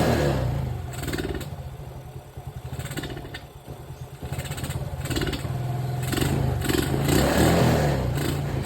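Motorcycle engine with a carburetor being tuned for jetting and needle pin, revved with sudden throttle blips; the engine bogs and sputters between surges, loud and close, running continuously with uneven rhythm.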